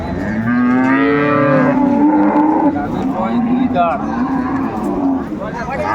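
A dairy cow moos loudly and at length nearby at a livestock market in Dinajpur, its low drawn-out calls overlapping with people talking in the background.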